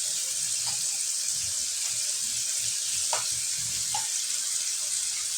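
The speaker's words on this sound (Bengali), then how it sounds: "2 চামচ টমেটো বাটা দিয়ে দিলাম।" Tomato paste fries in a pan for a pabda fish curry, giving a constant close sizzle with occasional faint spoon taps against the pan.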